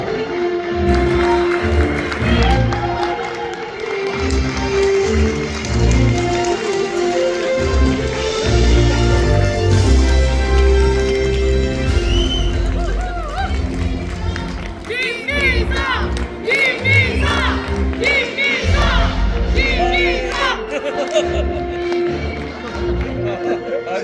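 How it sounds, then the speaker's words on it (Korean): Audience at a political policy briefing with South Korea's prime minister in a Cheongju hotel, applauding and cheering as he enters: a long, loud swell of clapping and shouts mixed with music and a voice over a speaker. "모두 큰 박수를 부탁드립니다."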